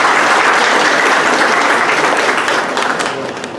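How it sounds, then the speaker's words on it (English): A college audience at a socioeconomic talk bursts into loud, full applause for two honored guests, dense and even clapping that tapers off near the end. "Please, a big round of applause for both guests."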